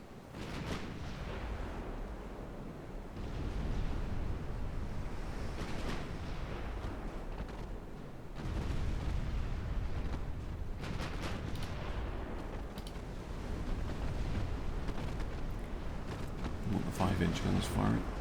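Naval battle in a legendary US campaign strategy game, with guns and artillery firing in steady dense volleys and booms throughout, loud and continuous under a faint voice.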